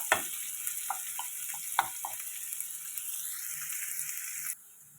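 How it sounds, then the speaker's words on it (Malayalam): Green chilies and sliced onion sauté in a pan for mushroom masala, giving a soft, steady sizzle with a few light stirring clicks before it cuts off near the end. "പച്ചമുളകൊന്ന് ചെറുതായിട്ട് വഴന്നു വരണം. ഒരുപാട് ചുവക്കേണ്ട ആവശ്യമില്ല."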